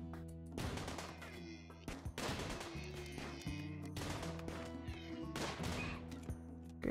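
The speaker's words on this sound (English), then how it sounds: "Start shooting." Bursts of gunfire in the tribal-modded RimWorld game: several sharp volleys of shots over a steady layered musical background, fairly close and moderately loud throughout.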